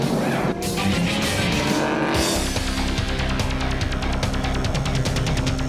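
Race cars at the Dubai 24-hour endurance race roar loudly past, with a rising engine whine, shifting gears and a brief squeal, the revving drone continuous and close throughout.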